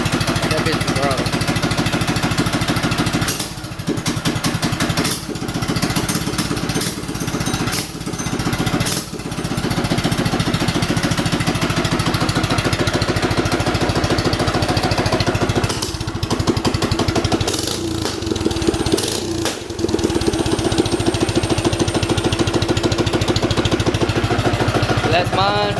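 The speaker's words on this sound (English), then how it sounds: "It's got a little backfire to it with that straight pipe." Straight-piped minibike engine idling loud and close, a steady rough putter with a few brief dips and pops hinting at slight backfire, while people talk over it.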